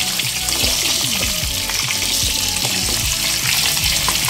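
Potato, pumpkin and other vegetables fry steadily in hot oil in a pan, a dense continuous sizzle with the soft scrape and knock of stirring repeating throughout, close and fairly loud with no talk.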